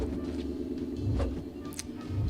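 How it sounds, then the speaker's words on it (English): A car passes outside, a low muffled rumble swelling and fading over a couple of seconds, heard from indoors at moderate level, with no talking. "Sorry, very loud car outside."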